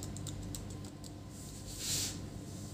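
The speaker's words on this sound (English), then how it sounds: "I'm just checking the keyboard" Typing on the keyboard of an HP ProBook 450 G6 laptop after a keyboard replacement, a quick run of light, close key taps that soon thins to a few scattered presses over a steady background hum.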